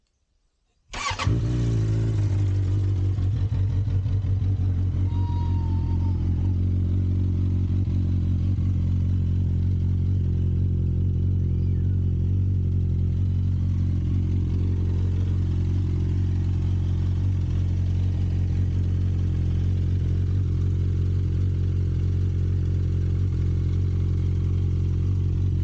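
A vehicle engine, its fuel pump primed and clutch held in, cranks and fires by ignition, then settles into a loud, steady, close running idle with a deep even hum that holds throughout.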